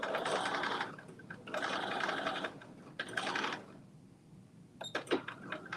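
Sewing machine stitching a straight seam along a pocket edge: three close bursts of rapid mechanical whirring and clatter separated by short pauses, ending with a few clicks as the fabric is adjusted.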